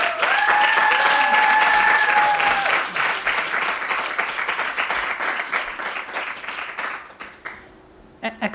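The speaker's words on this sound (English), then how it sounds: "Extra points for my students who cheered extra loud" A lecture audience at an urban colloquium bursts into loud, sustained applause and cheering to welcome a speaker, the clapping fading out toward the end with a few whoops over it.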